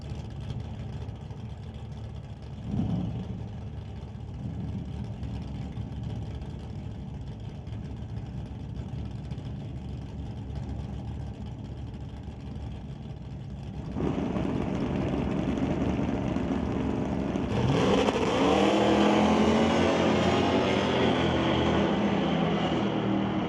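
Drag racing cars roar at an outlaw shootout final in the electronics class, a steady engine drone that jumps louder midway and swells again into a fuller, rising blast near the end, with no talk.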